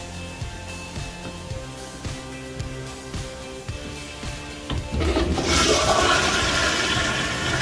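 A toilet flushes in a restroom during a sewer inspection, opening with a steady hum and faint water running, then breaking into a loud, broad rush of flushing water for the last few seconds, close by.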